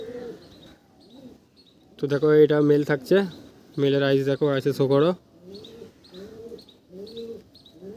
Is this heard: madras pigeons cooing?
yes